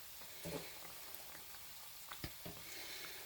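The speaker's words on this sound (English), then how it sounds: "let them fry till they get nice and golden brown" Beer-battered flounder fries in hot grease at 350 degrees, a steady quiet sizzle and crackle with a few small pops and spatters, close and uninterrupted.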